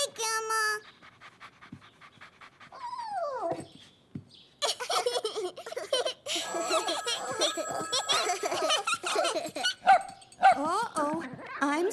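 A cartoon puppy yaps and pants excitedly, with repeated short barks and panting mixed in among children's chatter and giggles in a lively domestic scene.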